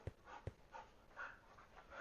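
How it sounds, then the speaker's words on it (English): Several household dogs excitedly greet someone arriving home, with faint whimpers, yips and sharp thumps heard at a distance in a quiet room. "the dogs are going crazy"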